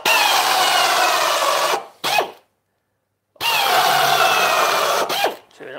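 A power driver sinks screws into rotten wood in two long, loud, close whirring runs, each ending with a short burst, separated by a full silence.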